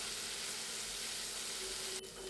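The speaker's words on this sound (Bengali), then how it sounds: "আদা খুব ভালোভাবে ভেজে নিতে হবে যতক্ষণ না পর্যন্ত এর কাঁচা গন্ধ চলে যাচ্ছে" Ginger frying and being stirred in a pan for a vegetarian dish, a steady close sizzling hiss that runs throughout and thins briefly near the end.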